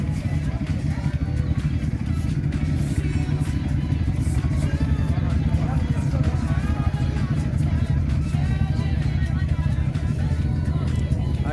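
A 125cc racing motorcycle is readied in a paddock, a steady engine rumble and clatter running close throughout while people talk nearby.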